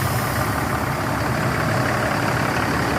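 A Jetbus 3 SHD bus's big diesel engine idles nearby, a constant low rumble with a broad mechanical hum and no voices.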